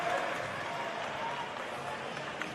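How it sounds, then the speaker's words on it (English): Crowd applause at a senior men's basketball grand final in Launceston, a broad steady clapping wash with arena crowd noise that continues evenly throughout. "Draws applause from Coach Brett Smith"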